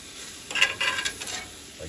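Onions sizzling on top of a steak in a cast iron pan, a soft steady hiss that swells briefly as they go in, fairly close and without talk.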